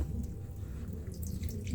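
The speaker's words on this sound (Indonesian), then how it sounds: "airnya kita buang" Water drains off soaked ketapang leaves as it is poured out, giving a faint, continuous trickle with soft dripping close by and no other sound.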